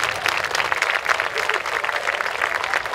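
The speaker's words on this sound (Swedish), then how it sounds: "säger tusen tack till våra ryttare med en stor applåd" Audience applauds the riders at the Swedish Icelandic horse championship four-gait senior A final, a steady dense clapping crowd filling the whole stretch, fairly loud and even.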